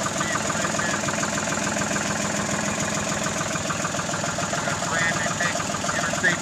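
Diesel truck engine idling with a steady, even rumble and faint knocking texture, close and continuous throughout.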